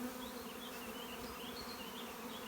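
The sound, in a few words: honeybees buzzing around hives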